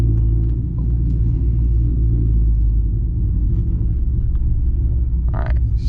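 A cammed 5.3 V8 in a truck on 35-inch tires rumbles steadily and loudly, a deep continuous idle-like drone with no talk over it.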